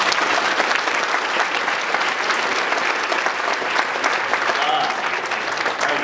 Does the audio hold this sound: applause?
yes